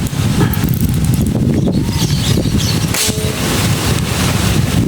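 Strong wind buffets the microphone in loud, continuous rumbling gusts, with faint clicks and movement noises underneath.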